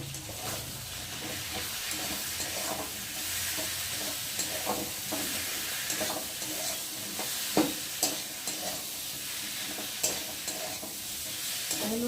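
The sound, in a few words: sautéing spice paste with onion, green chilli and tomato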